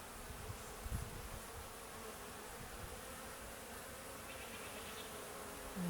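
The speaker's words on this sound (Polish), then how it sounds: "Pszczoła krąży właśnie tutaj. Fajnie. Brzęk się zwiększa." Honeybees buzz around a beehive at an apiary, a soft steady drone with individual bees passing close now and then.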